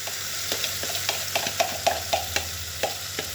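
Herb kuku, a Persian-style herb frittata, fries in a hot pan with a soft continuous sizzle, punctuated by light rhythmic taps and scrapes of a spatula, close and clear with no talking.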